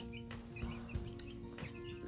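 Young chicks in a homemade brooder give faint, soft chirps and clucks at a distance, scattered over a low room background.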